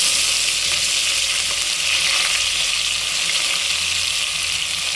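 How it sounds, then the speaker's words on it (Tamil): Onions sizzle and fry steadily in a hot pan for a South Indian mutton curry, a constant bright crackle with occasional stirring, close and loud throughout with no talking. "வெங்காயம் சேர்த்துக்கலாம்"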